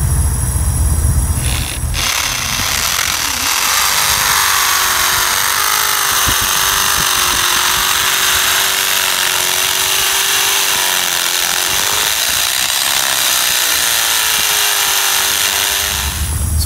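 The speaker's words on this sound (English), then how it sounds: "We're actually going to be drilling right down almost to the full depth of this bit." A power drill whines steadily for a long stretch, its pitch wavering slightly as it bores holes for steel bollards nearly the full depth of the bit, loud and close.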